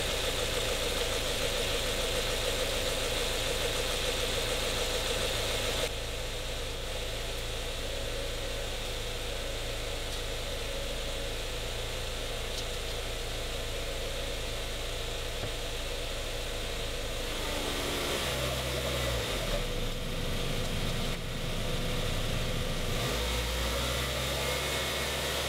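A car engine idles steadily while its coolant system is being bled of air, a continuous loud mechanical drone with a faint knocking texture that shifts slightly in tone partway through, with no voices heard.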